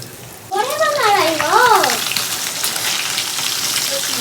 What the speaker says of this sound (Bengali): মাছগুলো যে ভাজা হচ্ছে খুব সুন্দর